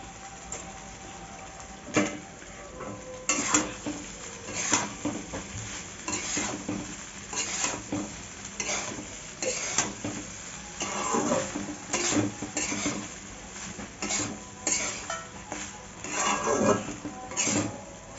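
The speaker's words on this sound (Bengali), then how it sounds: "এবার আমি ভাতগুলোকে ওর মধ্যে ঢেলে দেবো" Cooked rice is tipped into a pan and stirred for fried rice, a steady sizzle with frequent scraping and clinking of a spatula against the pan, close and continuous.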